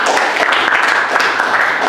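Students in a classroom applaud a group presentation, a brief, dense burst of many hands clapping at once, loud and continuous throughout.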